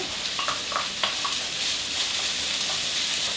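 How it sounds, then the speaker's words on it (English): Garlic, shallots and spring onion fry in hot oil with a steady, even sizzle throughout, a few light clicks from the pan near the start, and no talking. "So first of all, we're just going to fry some garlic."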